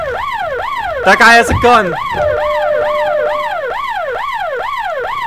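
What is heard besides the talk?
loud sirens in the video game Hard Time 3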